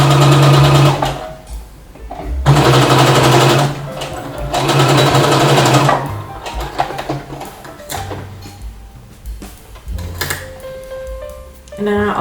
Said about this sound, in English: I'm just going to make a top stitching over the pocket.